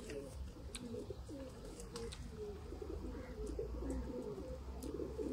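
Sialkoti pigeons cooing steadily in a low, throaty rolling rhythm, close by, with constant background rumble and faint higher chirps over about five seconds.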